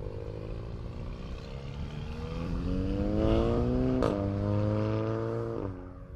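A Volkswagen Golf R MK7 with a DSG gearbox accelerates away with a rising engine note. Quick gear changes break the climb twice, and the sound stays fairly close and loud before easing off at the end.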